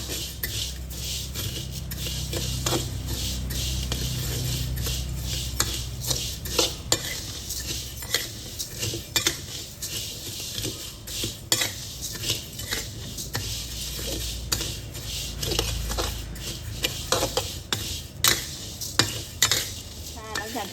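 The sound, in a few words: stirring flattened rice (khao mao) while dry-roasting in a pan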